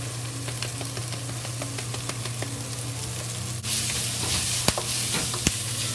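Scrambled eggs with collard greens fry in a pot, a steady sizzle carrying sharp clicks of a utensil stirring and scraping, growing brighter and louder partway through as the heat or stirring picks up.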